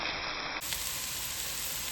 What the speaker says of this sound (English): Right, so I'm just adding the onions in.